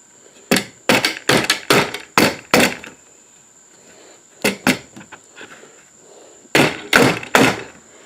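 Hammer taps on a 3/4-inch plywood bookcase shelf, knocking it into place: sharp, close wooden knocks in quick clusters of several strikes, a pause with two more taps, then a final fast burst.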